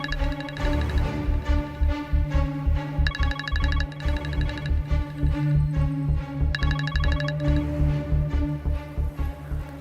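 A phone ringtone repeats in steady electronic bursts with a musical melody, loud and close, filling the whole stretch without any talk.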